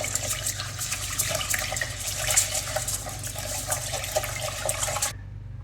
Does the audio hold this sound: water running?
yes